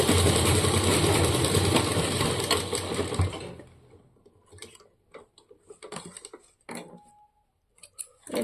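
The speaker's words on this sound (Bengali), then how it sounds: "এটুকু আমরা সেলাই করে নেব।" A sewing machine stitching half-pant fabric, a fast loud mechanical whir running for about three seconds before stopping, followed by scattered small clicks and handling noises.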